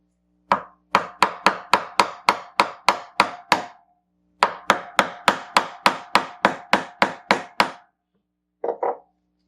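Engine seal on a 2008 Acura MDX block being driven in with a 36mm socket, two runs of about ten sharp, evenly spaced hammer taps, close and loud, then a brief double tap after a pause.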